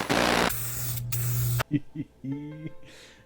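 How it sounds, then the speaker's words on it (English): Spray paint hisses from an aerosol can in two loud bursts separated by a short pause, followed by a person talking close by. "Let's go spray paint this."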